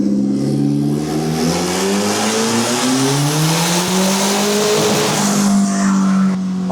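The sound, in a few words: turbocharged Toyota Camry engine revving during a full-throttle pull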